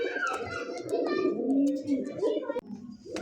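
A Rasgolla breed pigeon coos in soft, rolling calls up close, with faint voices and a brief click in the background.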